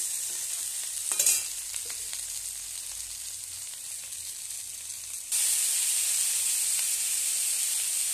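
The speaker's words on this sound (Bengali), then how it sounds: "আর এই দেখো আটাটি আমি মধ্যেখানে একটু তেলে ভাজতে দিয়ে দিচ্ছি" Wheat flour fries in oil in a home kitchen pan, a steady bright sizzle with a brief stir clatter early on, then the hiss grows louder and fuller partway through.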